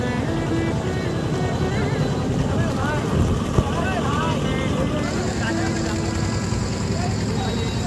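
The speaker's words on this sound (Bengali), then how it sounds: "দেখতে পাচ্ছেন আমরা নৌকাতে চড়ে আছি চারিদিকে সেই পানি" A steady motor drone of a boat under way on a river, continuous and close, with a person talking over it throughout.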